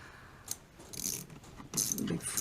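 Air inlet hose clamp being clipped back on and tightened on a 2001 Toyota Prado, heard as a few close metallic clicks and scraping rattles in short bursts.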